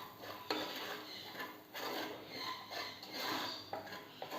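Chicken lababdar masala with cumin powder and salt being stirred in a pan, giving steady scraping and rubbing of a spoon against the pan in repeated strokes, close and fairly quiet, with no talk.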